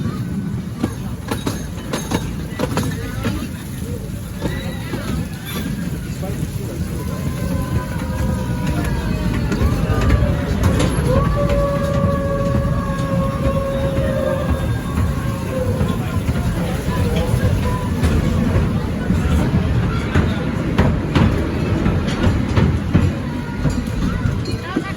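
Steady rumbling and clattering of a miniature train riding through a tight tunnel at a pumpkin patch park, with a constant hum of motion and faint crowd chatter underneath.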